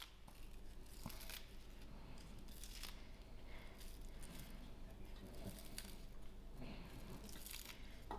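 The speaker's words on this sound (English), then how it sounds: "For my garnish, I'm just going to cut in my spring onions, slightly fine." Spring onions sliced finely on a board for garnish, a run of quiet crisp snips and cuts repeating steadily over a faint background hum, with no talking.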